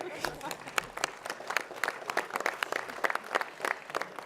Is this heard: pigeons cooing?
no